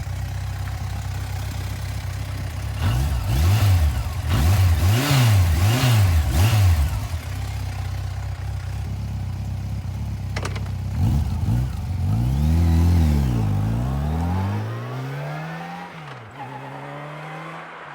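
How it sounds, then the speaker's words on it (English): Honda FJR1300 motorcycle with a modified Trooper exhaust revved from about ten feet away after warming up, a series of quick throttle blips over idle followed by longer rising and falling revs, loud and close. "And go rev the engine."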